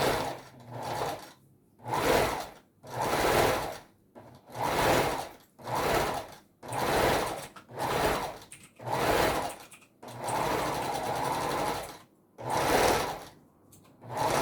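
Sewing machine stitching the body of a Christmas Santa doll, running in about nine steady bursts of a second or so each, separated by short pauses, close and clear with no voices.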